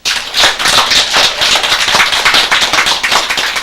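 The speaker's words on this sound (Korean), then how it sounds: "박수쳐." A crowd claps steadily throughout, dense and loud, the overlapping hand claps blending into a continuous patter.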